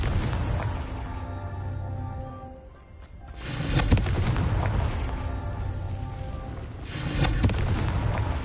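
Confringo fire spell explosions in the video game Hogwarts Legacy, two loud booming blasts with rumbling, crackling tails, the second following a few seconds after the first over a droning game backdrop.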